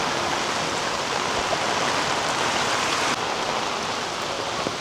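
A swollen stream by rice fields in Konkan rushes fast after heavy monsoon rain, a steady dense roar of water filling the whole span without pause.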